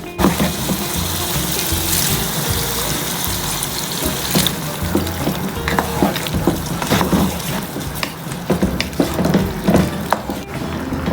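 Kerala-style naadan beef curry bubbling in a pot, a dense continuous sizzle and gurgle with irregular popping bursts of boiling, close and fairly loud throughout with no talking.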